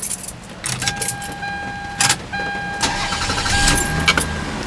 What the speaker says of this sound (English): I'll go ahead and start the car real quick